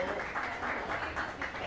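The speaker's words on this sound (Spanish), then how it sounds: "denle un aplauso a Juanda allá" An audience at a talk on Cuban son and salsa applauds, a soft, fairly distant patter of clapping that carries on evenly throughout, with faint voices mixed in.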